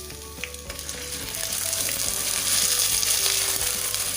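About half a kilo of chicken wings going into hot oil, a dense close sizzle that swells louder and fuller after the first second and a half, with faint clinks of the pan underneath.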